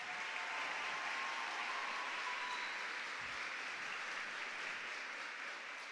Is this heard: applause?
yes